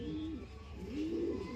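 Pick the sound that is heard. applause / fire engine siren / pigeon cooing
pigeon cooing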